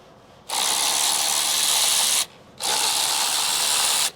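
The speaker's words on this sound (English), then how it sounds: "get whatever ratchet you're using, electric or air, and just go to town" An electric or air ratchet loosens bolts on a 2014 Chrysler minivan engine, with two sustained buzzing bursts of about two seconds each separated by a short pause, loud and close with no talk.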